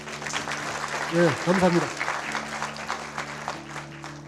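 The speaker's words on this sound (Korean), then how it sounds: "격려의 힘찬 박수를 다시 한번 부탁드립니다" Wedding guests applaud in a hall, a steady wash of clapping that continues beneath a voice speaking over it.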